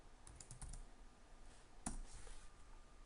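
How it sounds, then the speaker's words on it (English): A few scattered keystrokes on a computer keyboard while entering a feature name in SolidWorks, soft clicks clustered early then one sharper tap, close and quiet. "all I need to do is then type in the name of the feature"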